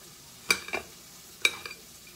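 Salmon with jalapeno frying in a pan on low heat: a soft sizzle, broken by two pairs of sharp scraping clatters about a second apart.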